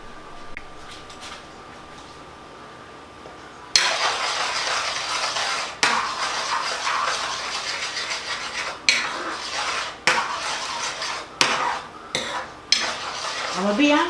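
A spoon works Dijon mustard into a shallot sauce in a pan for sirloin steak, giving a loud, close scraping and rubbing that begins abruptly and continues, broken by sharp metallic clinks against the pan.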